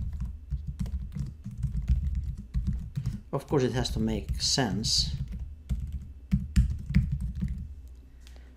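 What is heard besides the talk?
typing on a computer keyboard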